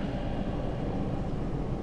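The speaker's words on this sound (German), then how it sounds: "Dafür röhrende Motoren." Engines roar in Wolfenstein The New Order as a steady, dense low rumble, loud and continuous throughout the brief moment, with no talk.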